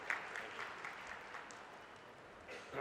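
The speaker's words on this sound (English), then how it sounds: "Ladies and gentlemen, a big round of applause for Mr." Faint applause for a speaker at the inauguration ceremony of a cattle show, a soft steady patter of clapping from a distant crowd lasting a few seconds with a slight swell at the end.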